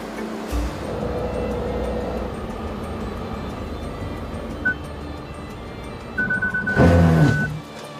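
Subaru Forester EyeSight front crash prevention sounding its collision warning as beeping tones over steady road and engine noise inside the car, followed by a brief louder burst as the automatic braking engages.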